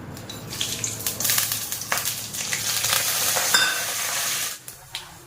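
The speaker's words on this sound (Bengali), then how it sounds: "লঙ্কাটা এখন ভাজা চলছে," Green chillies frying in hot oil in a home kitchen, a dense, bright sizzle with crackles that swells and holds, then drops off near the end with a few clinks, close by and without talk.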